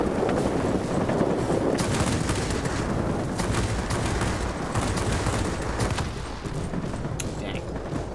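Aircraft machine guns fire in World of Warplanes from a Ki-94-II fighter, a dense, continuous rattling burst with thudding low impacts, loud and close, running nearly unbroken under faint engine drone.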